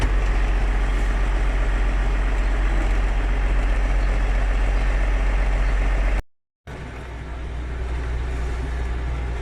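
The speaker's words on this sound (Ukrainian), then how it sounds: "Так що прогріваємо трактор і вирушаємо" A John Deere 6900 tractor idles as it warms up before field cultivation, a steady loud low-pitched diesel rumble that drops out briefly for a moment, then resumes unchanged, with no talking.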